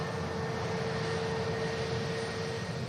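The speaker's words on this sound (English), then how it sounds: "Qatar 350 lined up for departure back to Doha. Flight number, Quebec, Romeo 28. Aircraft just spooling up." Qatar Airways Airbus A350 jet engines spooling up for departure at Manchester Airport, a steady, even roar with a faint whine running through it and no talk.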